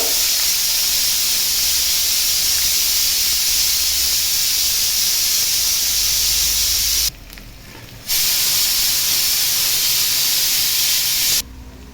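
Onions, cloves, cardamom and curry leaves fry in a pan with a loud, dense hiss that holds steady, drops out for about a second midway, then returns until a brief cut near the end.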